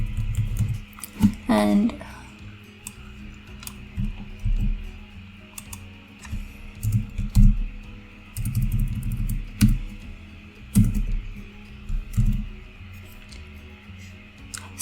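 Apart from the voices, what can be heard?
typing text on a computer keyboard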